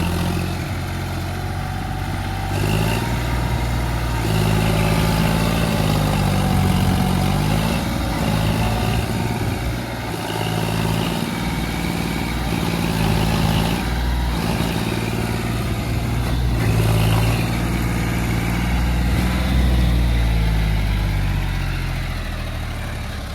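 A tractor engine runs steadily while its empty trolley sits stuck in deep mud. The low, throbbing drone is close and loud, rising and falling slightly in pitch as the throttle shifts, with no speech.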